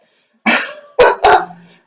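A dog barks indoors, three sharp close barks, the first slightly apart and the last two in quick succession, with silence around them.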